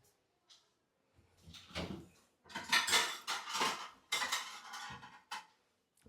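Plates and cutlery clatter and clink as they are set out for serving stew at home, with several loud bursts of ceramic and metal knocks spread unevenly, close by and with no talk.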